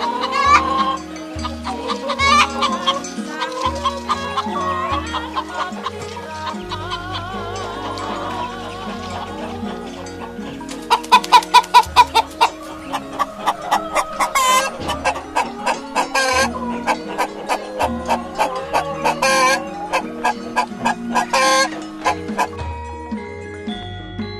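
A hen clucks in short repeated bursts over steady music with a rhythmic beat, the clucks loud and close.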